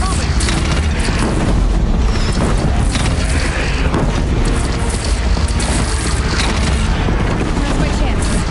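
Deathbringer machine in Horizon Zero Dawn firing explosive shots, a dense, loud barrage of booming blasts that fills the whole stretch with continuous rumbling impacts.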